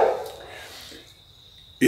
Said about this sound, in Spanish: Mira que termine ladrar el perro.